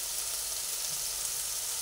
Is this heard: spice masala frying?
yes